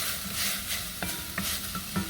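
A spoon stirs a pot of curry goat: soft scraping strokes come every half second or so over a quiet, continuous sizzle, close up and without speech.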